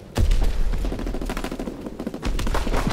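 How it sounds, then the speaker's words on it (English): A fighter plane's strafing run in the World War II shooter Call of Duty WWII, loud sustained machine-gun fire rattling continuously for a few seconds, close and dominant with no talking. "Fighter pilot in your area. Call for a strafe run."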